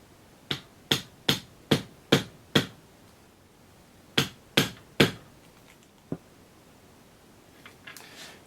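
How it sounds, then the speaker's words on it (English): Metal hammer strikes land on an M14/M1A rifle's operating rod guide in a sharp, evenly spaced series of about ten close, loud blows with a pause midway, followed by a few faint clinks. "Looks like I can just keep on hammering away"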